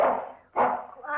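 A dog gives two short, loud barks close by, separated by a brief gap, in an indoor domestic setting.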